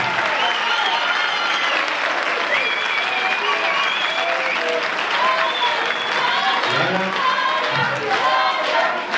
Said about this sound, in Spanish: vamos a dar todos un fuerte aplauso a los monitores y a las monitoras